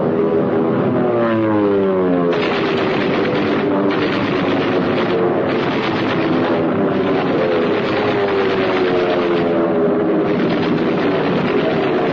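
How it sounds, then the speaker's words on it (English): A formation of World War I era Allied biplanes in flight, heard as a loud, continuous propeller-engine drone with rising and falling pitch sweeps as the aircraft pass, with no voices. "More than 800 Allied planes went into action, some 600 of them piloted by Americans."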